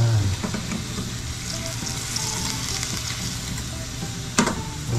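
Food frying in a crowded kawali, a steady close sizzle with light stirring scrapes throughout and a brief louder clack near the end.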